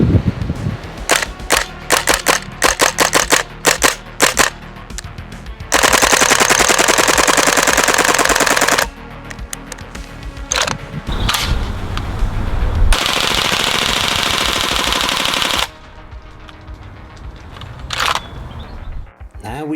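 A WE-Tech Apache A3 gas blowback airsoft MP5 fires loud, sharp bursts and long sustained full-auto strings close up, the bolt clacking rapidly, with brief gaps between strings and no talking.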